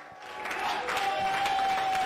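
Applause from an audience rises after a brief pause and holds steady, a dense patter of clapping with a faint steady tone running underneath.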